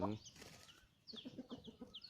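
Backyard chickens cluck softly at dusk in a rural yard near a dry riverbed, with someone talking over them throughout.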